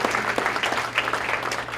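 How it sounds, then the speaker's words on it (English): A conference audience of teenagers claps in a dense burst of hand applause. It is loud and close and goes on with no pause for the short moment, with no voices on top. "Can we give mothers a hand clap, please?"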